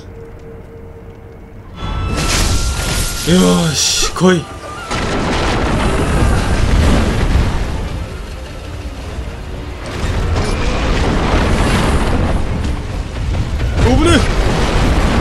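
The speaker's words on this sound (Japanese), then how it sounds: "これ爆竹よし。" Firecracker prosthetic tool going off in the video game Sekiro, a burst of sharp crackling pops among heavy clashing combat noise, loud and continuous, with someone talking briefly.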